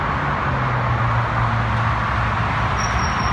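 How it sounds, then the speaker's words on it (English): Steady roar of highway traffic by a small roadside cemetery beside an interstate, a continuous broadband wash of passing vehicles with a low engine drone underneath. "You can hear the highway"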